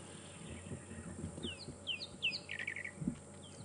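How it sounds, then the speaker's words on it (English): Drongos call faintly from a distance in the bush during a safari drive, with a few short, rising metallic notes and a quick chattering run over a low background hum. "There's a few drongos I can hear in the distance"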